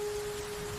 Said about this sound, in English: Luckily, the rain wasn't going anywhere.